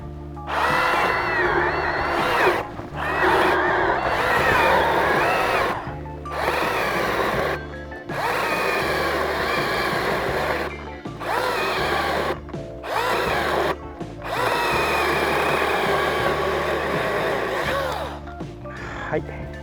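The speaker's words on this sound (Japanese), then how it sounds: "最後はですね、思いっきり負荷かけて切ってみたいと思います。" A Makita 18V mini chainsaw with its bar modified to 150 mm cuts wood under heavy load, several long bursts of strained, labouring motor whine broken by short pauses, close and loud, with a voice heard speaking at times.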